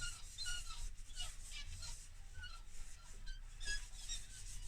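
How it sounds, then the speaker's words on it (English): Soft, faint rubbing with small squeaks, cloth rubbing finish steadily into a smooth wooden pen, repeating in short strokes. "I gently rub it in until it's almost dry."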